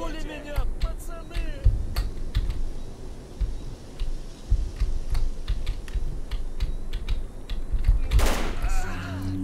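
Gunfire in S.T.A.L.K.E.R. Call of Pripyat crackles as a string of sharp, close shots at an irregular rhythm, mixed with other game noises and a loud burst near the end, while a player speaks intermittently.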